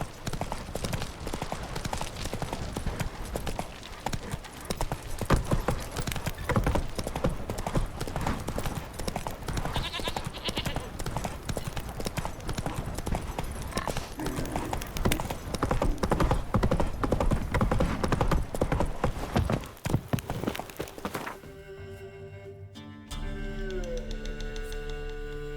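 Roach, a horse in The Witcher 3: Wild Hunt, trots with a steady clip-clop of hooves under dense game music and ambience, then the scene cuts to a quieter, tonal passage near the end.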